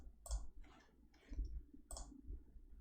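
Buttons pressed on a CAS calculator, a few soft, faint clicks spaced irregularly over about three seconds, with no talk.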